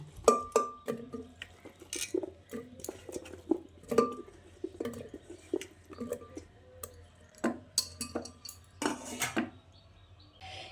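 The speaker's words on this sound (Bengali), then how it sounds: "এই প্রেসার কুকারের মধ্যে 4টে আলু দিয়ে দিচ্ছি। এবার এই কেটে রাখা এঁচোড়গুলো দিয়ে দিচ্ছি।" Potatoes and chopped jackfruit drop into a metal pressure cooker, making a run of sharp clinks and clatters at irregular intervals, close and fairly loud, with quiet gaps between the knocks.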